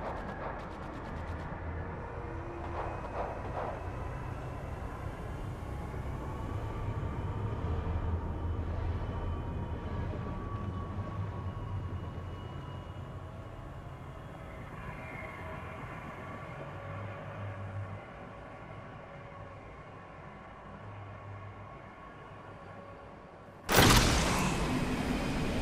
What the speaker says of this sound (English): the train has started moving